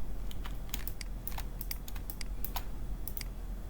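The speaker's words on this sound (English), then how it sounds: "I'm going to type Shopify" Rapid keystrokes on a computer keyboard as a word is typed into a search field, in short irregular clusters of crisp clicks, close and alone over a low steady hum.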